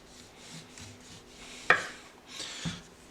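A knife cuts through the ends of an orange on a board, making soft rubbing strokes, then one sharp chop near the middle and a duller thud shortly after, close and fairly quiet.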